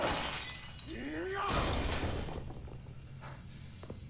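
Glass shatters in an episode of the animated Castlevania series, a loud bright crash with scattering shards that follows a rising swoop, then dies away into quieter tinkling and low background sound.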